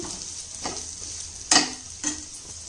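Boti curry sizzles gently in a pan while a spoon stirs and scrapes through it in a few distinct strokes, one sharper than the rest, with no talking.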